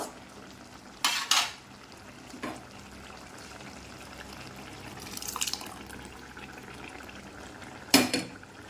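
Cooked dal being stirred into bottle gourd kootu in a pot: a few sharp clinks and scrapes of a spoon against the metal come near one second, two and a half seconds and eight seconds, with a quiet background between and no talk.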